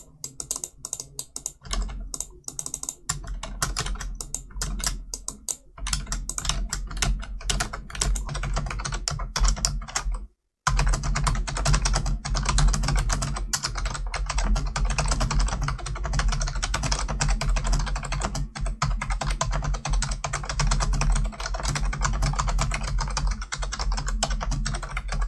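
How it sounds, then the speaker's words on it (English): Steady, rapid clicking of keys on an HP Wireless Keyboard 300 office keyboard, continuous and close, with a brief pause about midway before the typing resumes. "So I'm going to give a quick demonstration of the audio test of this keyboard."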